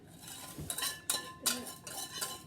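A utensil scrapes and clinks against a saucepan on low heat in a few quick, rhythmic stirring strokes, soft and close.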